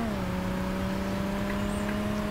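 A steady engine drone holds one even pitch throughout, a synthetic-sounding car motor in Saints Row 2 humming at constant revs without pauses.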